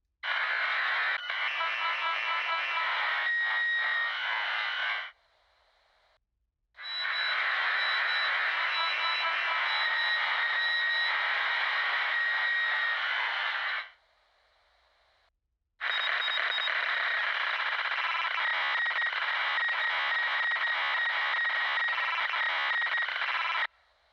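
Garbled ship communications in the Starfield video game: three long bursts of harsh, buzzing, tonal static with whine-like tones, separated by short near-silent gaps.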